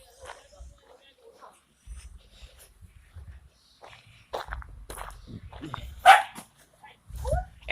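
Puppy barking in a few short yips and whimpers at close range, interspersed with footsteps and a person talking.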